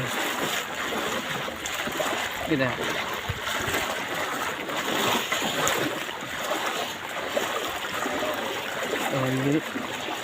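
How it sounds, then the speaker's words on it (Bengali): Someone wades through knee-deep floodwater during the 2024 Lakshmipur floods, with a faint, continuous sloshing and trickling wash throughout and brief murmuring voices in the background. "বন্যার ভিতরে হাঁটতেছি"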